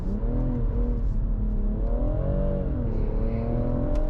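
BMW 1 Series with 350bhp accelerating hard, heard from inside: a loud, steady engine drone rising in pitch through the revs, dipping briefly at a gear change, then climbing again, with no talking.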